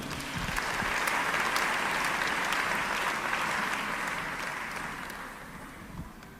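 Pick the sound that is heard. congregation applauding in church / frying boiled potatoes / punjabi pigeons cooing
congregation applauding in church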